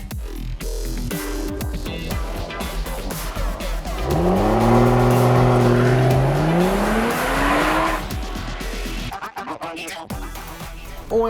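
A 2023 Mercedes-AMG E 53 Cabriolet powers along winding mountain roads, its engine swelling and climbing in pitch through a bend before easing off, with road and wind noise around it and no voices.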